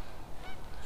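Geese honking at a distance during a late-afternoon winter bird-count walk, a brief burst of overlapping calls over steady outdoor background noise.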